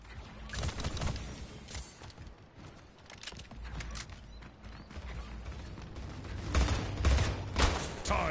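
Gunfire in the shooter game Splitgate, with repeated bursts of shots and mechanical clatter that rise and fall over several seconds and grow heavier toward the end.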